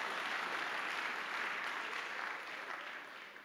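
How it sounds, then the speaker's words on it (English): An audience applauds a motivational speaker in a hall, a continuous wash of many hands clapping at a moderate, slightly distant level, fading a little toward the end. "Don't I deserve a clap, my friends?"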